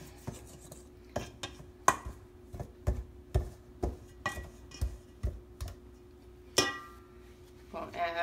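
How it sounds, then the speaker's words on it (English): Pastry blender cutting lard into buttermilk biscuit dough in a bowl, a string of sharp, close chopping and scraping strokes at an uneven rhythm, with a steady faint hum underneath. "Have to keep getting the lard off of the pastry blender"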